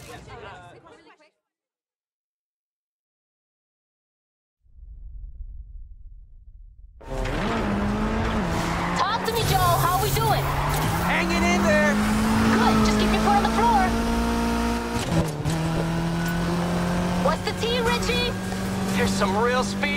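Race cars in Need For Speed Heat roar loudly after a brief burst and a few seconds of silence, a low rumble building into sustained revving with tire screech, engine tones rising and shifting under an excited voice.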